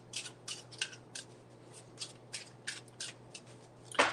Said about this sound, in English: That's a short shuffle.